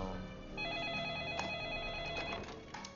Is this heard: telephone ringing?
yes